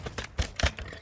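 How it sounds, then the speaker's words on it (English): A magazine is swapped during a reload in Call of Duty: Modern Warfare II, heard as a quick series of sharp mechanical clicks and clacks, about five distinct hits in close succession, fairly near and clear. "Swapping mags!"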